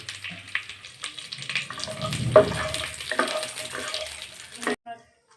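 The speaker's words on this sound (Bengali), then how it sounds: "এটা আমি হালকা করে ভাজে নিব" Nuts sizzle and crackle in hot oil while being stirred, with scraping and clinks, before the sound cuts off near the end.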